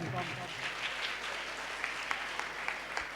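An audience at a national journalists' seminar claps for a speaker, a steady wash of applause with a few sharper individual claps near the end and a voice talking over it.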